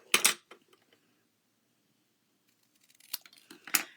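Scissors snip through card paper while a folded greeting card is trimmed, a couple of short crisp cuts close by, separated by quiet.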